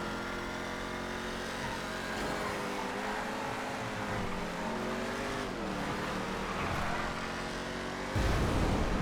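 A Runa 2000 car in GTA FiveM drives with a continuous engine drone whose pitch rises and falls through gear changes, ending in a louder, rougher burst.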